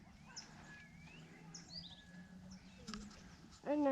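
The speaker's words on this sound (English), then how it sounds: "Oh, that's a bird." Bird calls chirp and whistle through a quiet background, with short high tweets scattered across the moment and a louder closer call at the end, while people talk softly underneath.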